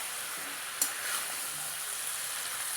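Hill prawns and fish frying in a pan give a steady, close hiss of sizzling with a brief clatter near the start, no voices over it.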